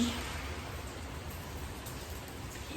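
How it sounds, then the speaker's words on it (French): Steady rain falls in a continuous hiss, soft and even throughout with no other sounds. "comme vous l'entendez, il pleut"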